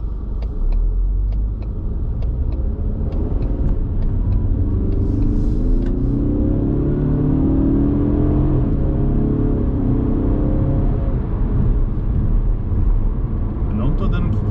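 Ford Mustang driven on a road in the United States, a loud, steady engine rumble and road roar that swells gently as the car accelerates without full throttle, with someone talking over it.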